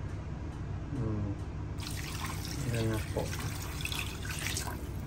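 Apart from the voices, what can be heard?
water poured into chicken tinola pot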